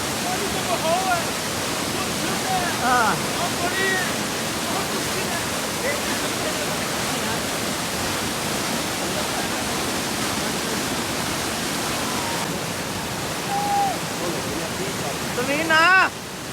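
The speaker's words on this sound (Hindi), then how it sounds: "पानी का शोर है, पानी का बहाव है," A river rushes steadily through a remote mountain valley village in Kashmir's Leepa Valley, a broad continuous roar of flowing water close by, with a voice speaking briefly over it near the end.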